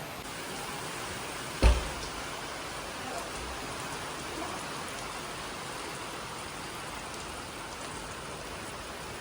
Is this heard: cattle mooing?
no